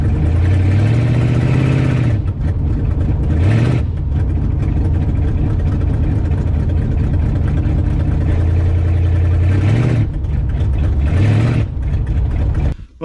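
A 1968 Dodge Charger R/T with a 440 engine and Holley carburetor revs hard twice, rising quickly and settling into a loud, steady rumbling idle, with no talk.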